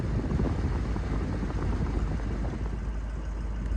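A steady, loud rushing whoosh of air blows continuously from the air conditioning inside a 2004 Ford Excursion Limited with a 6.0L Powerstroke diesel, with no voices.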